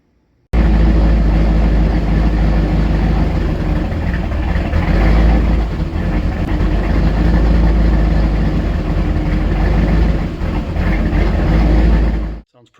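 A turbocharged 4.6-liter 3-valve Mustang V8 on a base tune roars loud and close through a Corsa exhaust, holding a steady heavy rumble for about twelve seconds before cutting off.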